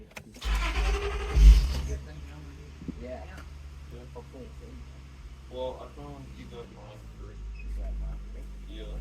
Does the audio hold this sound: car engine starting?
yes